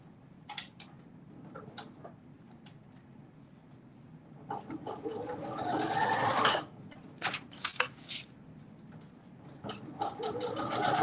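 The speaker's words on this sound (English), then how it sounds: "now we are stitching 5/8 seam allowance" Domestic sewing machine stitching a 5/8 inch seam on a pair of pants, ticking needle clicks and short whirring runs building to a louder continuous burst, heard alone without speech.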